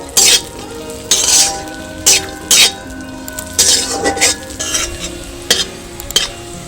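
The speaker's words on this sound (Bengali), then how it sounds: "আমি প্রথমে কাজু এবং কিশমিশগুলো একটু ঘিতে ভেজে নেব।" Cashews and raisins fry in ghee in a pan, a soft sizzle running under a series of loud, sharp bursts from a spoon stirring and scraping against the metal every second or so.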